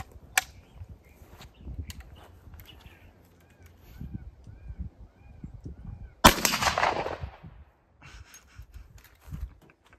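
A .577 Snider rifle fired with smokeless and duplex loads gives one sharp, loud report outdoors, followed by a brief rushing decay, amid faint background noise and scattered clicks.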